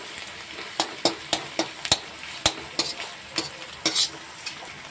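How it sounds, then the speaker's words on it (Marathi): Mixed vegetables stir-frying in a pan over a high flame for veg fried rice, a steady sizzle broken by sharp repeated scrapes and clinks of a spatula tossing the food, close and fairly quiet. "हे सर्व भाज्या ज्या आहेत आपल्याला असं ठेव हाय फ्लेमवरती फ्राय करायचे"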